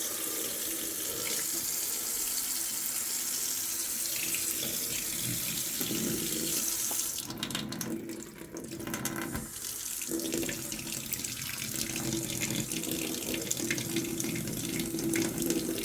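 Water runs steadily from a newly replaced kitchen mixer tap into the sink, a close, constant rushing stream lasting throughout with a brief dip in flow midway.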